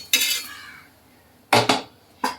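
Thalipeeth made from bhagar is lifted off a pan into a dish, giving three sharp metallic scrapes and clinks of utensil against cookware, close and fairly loud, the first with a short fading ring.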